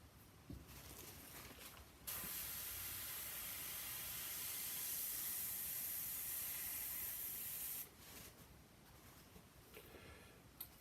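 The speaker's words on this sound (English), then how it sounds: "I've had this airbrush for years" An airbrush hisses in one continuous spray burst of about six seconds, close and steady, framed by quieter fiddling clicks before and after.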